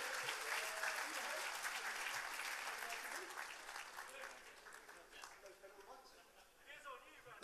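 An audience applauds steadily after a game at an awards event, loud and sustained at first and then gradually thinning toward the end.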